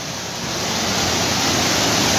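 Heavy rain pours down in Cancún as a dense, continuous hiss of downpour that grows a little louder over the short stretch. No talking is heard.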